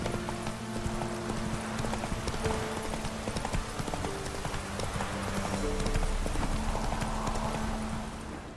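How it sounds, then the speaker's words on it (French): Horse hooves clip-clop in a steady galloping rhythm throughout, close and continuous, with a faint whinny and game ambience underneath in The Witcher 3: Wild Hunt. "Au galop, Ablette."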